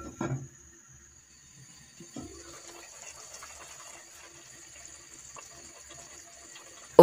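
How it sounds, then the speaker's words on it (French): Hot milk poured into a pot of couscous with courgettes, a soft, faint trickle of liquid running steadily after a brief clatter, with a sharp knock right at the end. "on verse le lait chaud"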